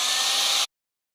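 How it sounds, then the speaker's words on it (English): A hairdryer drying watercolor paint blows a steady, close, loud whoosh for just over half a second, then cuts off abruptly into silence. "And I'm going to take my hairdryer here."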